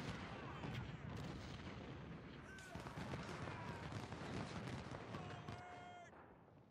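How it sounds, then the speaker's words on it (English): Artillery and rifle fire in the Civil War strategy game Ultimate General: Civil War, a dense, muffled barrage of booms and crackling shots rolling on steadily at moderate volume before tapering off. "The artillery's getting kills."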